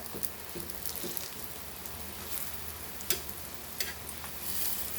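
Rava-coated aubergine slices frying in a pan over medium flame, a soft steady sizzle with faint crackles and a few sharp clicks, alone and fairly quiet.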